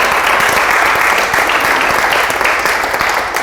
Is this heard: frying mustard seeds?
no